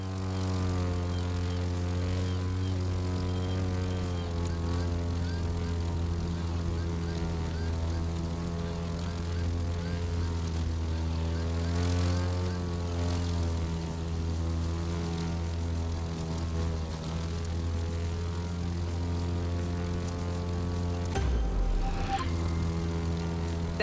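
A propeller airplane drones steadily as it flies low over treetops in The Crew 2, a loud continuous engine hum with a slight pitch waver and a brief rumbling swell near the end.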